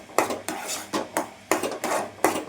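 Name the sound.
stirring urad dal kali in a pan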